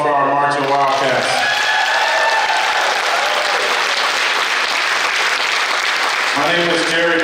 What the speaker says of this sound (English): Can we get a round of applause for our marching Wildcats?